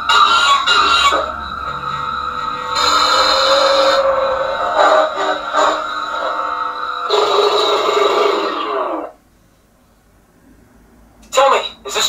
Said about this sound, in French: Et là, le bruit, c'est des vélociraptors.